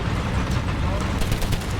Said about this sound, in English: it's machine guns.